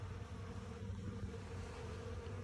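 Faint, soft buzzing of honeybees gathering spilled beeswax, a quiet continuous hum with low rumble in the background.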